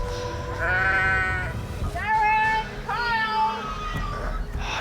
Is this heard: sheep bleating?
yes